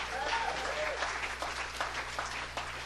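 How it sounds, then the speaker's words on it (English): Audience clapping at a live talk event with a band, steady and fairly close, with a voice talking over the applause. "This clapping thing is pretty cool, you know?"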